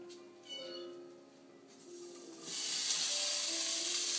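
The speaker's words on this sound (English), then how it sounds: "So we're going to saute these things in a little bit of oil." Fresh garlic sautés in a little organic olive oil in a heated pan, a soft sizzle that swells into a loud, steady hiss partway through, close by and without speech.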